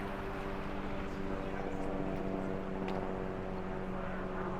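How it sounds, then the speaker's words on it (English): Helicopter flying overhead near the base of Mount Robson by a blue lake on a hiking trail, a steady low droning engine and rotor hum that stays constant throughout, moderately loud and distant in the open air. "And the helicopter's up there."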